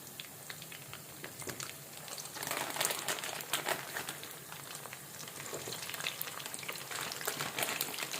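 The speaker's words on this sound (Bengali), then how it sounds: "একটু বেশি তেলে ভাজতে হবে।" Chicken nuggets fry in a generous amount of oil, giving a soft, continuous sizzle and crackle with occasional stirring scrapes, quiet and close, with no talking.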